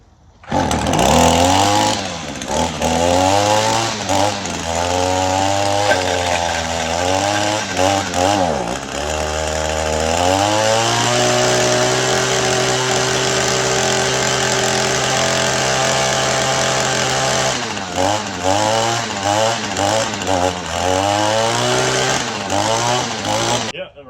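A gas-powered weedeater engine runs steadily and loud after a maintenance service, revving up and down in a few surges before settling into a sustained high idle, then revving again near the end.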